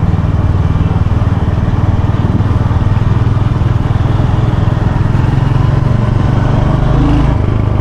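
A motorcycle engine drones steadily and loudly throughout a test ride, a low continuous rumble with slight shifts in pitch as it pulls in third gear, with no speech over it.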